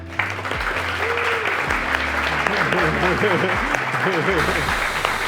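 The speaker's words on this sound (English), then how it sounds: "I wanted us all to give a round of applause for Hatono-san." An audience gives a sustained round of applause for a visiting Japanese bladesmith at a forging demonstration, dense clapping that carries through while a voice speaks over it.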